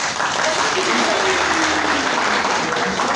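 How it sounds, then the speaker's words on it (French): An audience at a speech gives dense, sustained clapping that fills the whole stretch, with voices mixed in. "Daniel Tessougué, qu'il faut saluer ici et applaudir."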